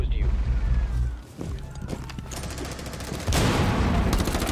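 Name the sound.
gunfire from a video game, Rainbow Six Siege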